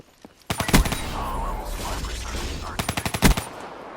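Gunfire in a 1v7 online shooter game: a loud, close burst of rapid shots opens the stretch, followed by a sustained rumbling roar, then another clustered volley of sharp cracks near the end. No voices are heard.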